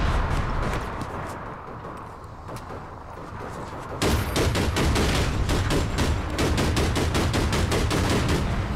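Rapid carbine gunfire from APB Reloaded, a video game, cracks out in dense repeated bursts, lighter at first and then loud and continuous after a sharp jump in intensity partway through.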